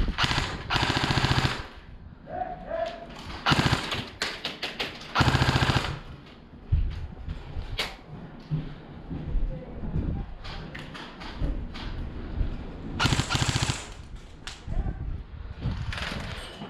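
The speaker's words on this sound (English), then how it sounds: "They're shooting over here from the right." Loud, close bursts of rapid airsoft gunfire during a milsim desert wasteland game, sharp repeated cracks in several volleys separated by brief lulls, with scattered thumps and background movement.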